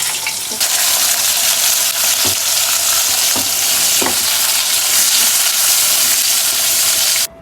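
Cut potatoes fry in hot oil in a pan, a loud, steady sizzle and hiss with a few soft knocks of stirring, cutting off abruptly at the end.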